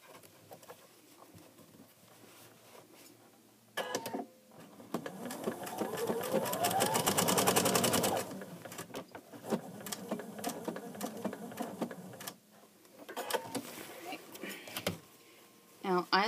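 A sewing machine stitches a seam in bursts, a close rapid mechanical whir that revs up and stops several times, with a person talking in the pauses.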